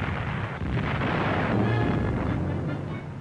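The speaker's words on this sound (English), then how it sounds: "The roar of naval guns is followed by the crashing explosion of 15-inch shells." Naval guns fire and 15-inch shells explode in 1940 newsreel footage of the Battle of Oran, heard as a dense, continuous roar of booms and blasts at a distance, steady and loud throughout with no voices.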